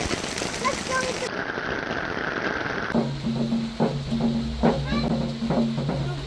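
Heavy rain pouring down outdoors, a dense constant hiss of drops on surfaces that persists the whole time, with people talking faintly and scattered knocks in the latter half.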